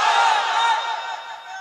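A crowd gathered for a religious sermon roars back in unison in response to a call for takbir. The sustained chorus of voices is loud and close, then fades slightly over less than two seconds.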